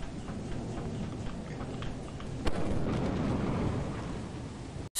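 A thunder rumble in the Lethal Company video game, a low, rolling boom that swells after a sharp crack midway, loud and sustained, then cuts off abruptly at the end.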